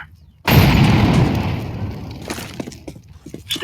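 An incendiary grenade bursts in Counter-Strike 2 with a sudden loud whooshing blast. It is followed by crackling flames and scattered small pops that fade over the next few seconds.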